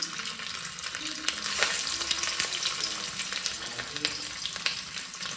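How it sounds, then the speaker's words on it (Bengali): Paneer sizzles steadily in hot oil in a pan, a dense continuous crackle with occasional louder pops and scrapes of stirring, close and alone without talk. "পনিরটা এখন ভেজে নিই।"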